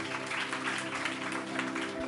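Applause from a Marathi Christian church congregation during a communion service, a steady, even patter of many hands sustained throughout at moderate volume over faint tonal background hum.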